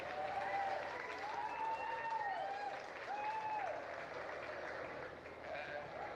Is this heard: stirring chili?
no